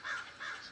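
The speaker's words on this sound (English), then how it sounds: "a large crow landed on the stone balustrade 10 feet away" A large crow caws twice in quick succession as an audio drama sound effect, two hoarse, close calls on a damp evening outside a hospital entrance.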